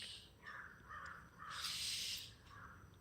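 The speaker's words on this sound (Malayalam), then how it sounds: "ഈ കിളി എന്തിനാ ഇങ്ങനെ കരയുന്നേ?" A crow caws repeatedly outdoors, a series of harsh calls at moderate distance with one longer, louder caw in the middle, faint and with no voices.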